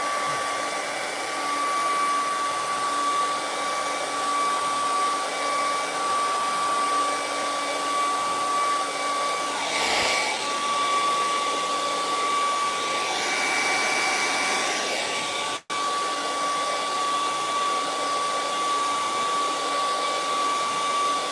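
A hair dryer runs steadily and close by for about twenty seconds, blowing over acrylic paint on a beach scene canvas, its airflow whooshing shifting briefly as the dryer moves, then cut off abruptly near the end.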